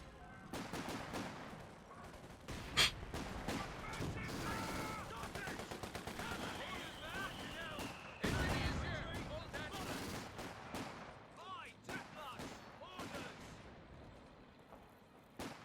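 Gunfire and artillery in a 4v4 match of Company of Heroes 2, with rifle shots, machine-gun bursts and heavy blasts, one booming impact midway, while someone commentates over it.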